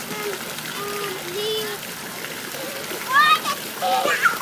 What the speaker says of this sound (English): Tane, Tane, no splashing.